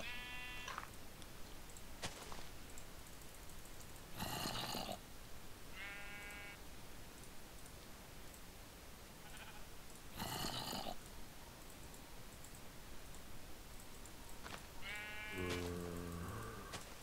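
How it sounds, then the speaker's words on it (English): Minecraft sheep bleat in short, repeated bursts, with several distinct calls spread across a quiet in-game backdrop and a deeper, buzzier bleat near the end. "There's a sheep glitching through the roof."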